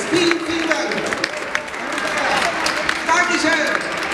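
Audience applause at a Schlager concert: a dense, steady wash of clapping and crowd noise that fills the whole stretch at an even level.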